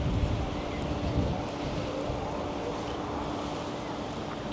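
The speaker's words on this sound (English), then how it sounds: "It's a little windy up here" Wind rushes and buffets the microphone in a steady low roar at a high point at the University of Coimbra, Portugal, gusting slightly stronger at the start.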